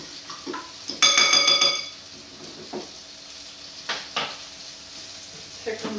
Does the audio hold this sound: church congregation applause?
no